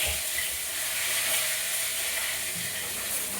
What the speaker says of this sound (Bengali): কড়া করে ভেজে নিয়েছি মাছগুলো